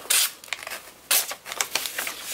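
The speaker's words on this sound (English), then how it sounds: "It's ripping the paper. It's pulling it a little bit." A blade from a clone of the Boker Rhino knife slices and tears through paper packaging, giving two sharp bursts of ripping followed by shorter scratchy tearing strokes, close and moderately loud with no talking.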